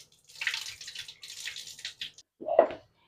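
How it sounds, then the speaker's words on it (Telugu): Soaking water poured off soaked sorghum grains, a short splashing trickle with a second brief gush near the end, close and fairly quiet. "ముందుగా అయితే ఈ నీళ్ళు అయితే వంచేసుకుంటాను"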